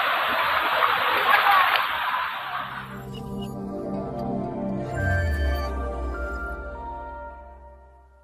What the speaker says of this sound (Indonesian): Ini dia air terjun Curug Nangka.